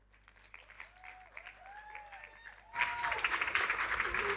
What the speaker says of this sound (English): So please give a round of applause to our next panel